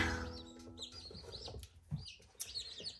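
Newly hatched chicks in a warm brooder give off a steady stream of high, thin peeps and chirps, some overlapping and others standing alone, close and fairly soft, with no one talking.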